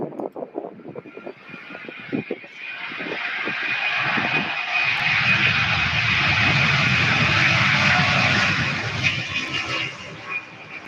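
A jet airliner departs Louisville airport bound for Oakland, California; its engine roar swells loudly from a distance, holds at full power, then slowly fades, with a voice briefly heard before it builds.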